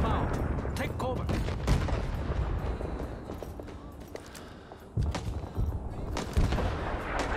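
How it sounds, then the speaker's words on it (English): An artillery barrage in a war video game set against the Viet Cong: repeated heavy booms and blasts rumble continuously, some thumping close and loud, others distant, with faint speech mixed in. "Barrage inbound. Take cover."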